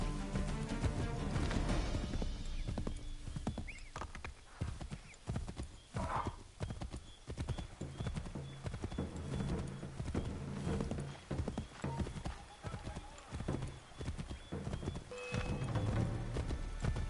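Horse hooves clip-clop in a steady rhythm through the Assassin's Creed 3 game world, with an occasional whinny and a dense bed of game music and ambience underneath.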